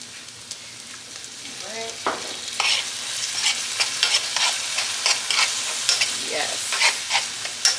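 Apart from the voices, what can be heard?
stirring garlic frying in a pot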